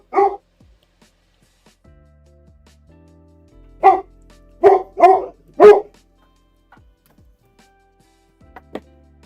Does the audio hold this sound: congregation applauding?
no